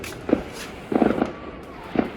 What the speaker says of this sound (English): don't mind the fireworks in the background because that is today's Canada Day.